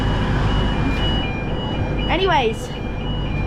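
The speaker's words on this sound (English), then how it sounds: "It's the fire alarm going." A fire alarm sounds in a railway station, a steady high electronic tone broken by a burst of rising and falling chirps, heard under people talking and general station noise.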